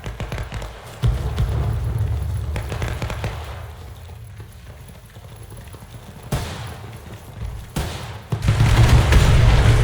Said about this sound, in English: I can hear our guns firing. And this is a Yankee machine gun.